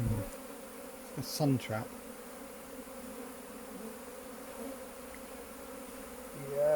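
Honey bees swarm around an open beehive on a hot day, a continuous close buzzing hum with a few louder passes near the microphone and a brief spoken remark.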